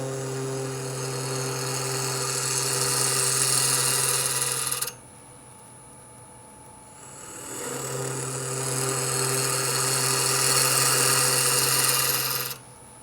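A flute gouge cuts a wooden mortar spinning on a lathe, giving two long scraping, rasping passes over a constant motor hum, with a short pause between them.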